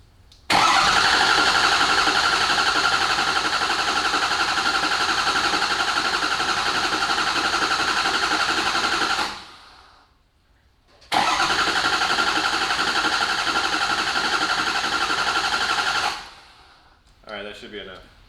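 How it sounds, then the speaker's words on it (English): A 2006 Ford F250 6.0 Powerstroke diesel cranks over on a bridged starter in two long steady runs of about nine and five seconds, loud and close, with a pause between them and no talking. "we're going to go ahead and just crank the engine over"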